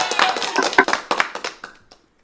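A few people clap in brief, scattered bursts at a late-night live designer handbag sale, fading out over about two seconds.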